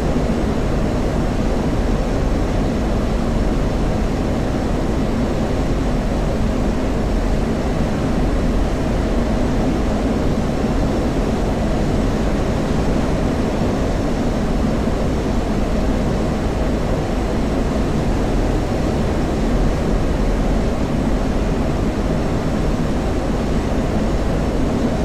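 Continuous, loud aircraft engine drone from the DCS World flight simulator, heard as a steady low roar and rumble in flight without a break and without voices.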